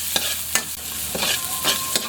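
Onions sauté in a pan for a milkfish and shrimp sinigang, a steady soft sizzle broken by several scraping stirs of a utensil, close and without talk.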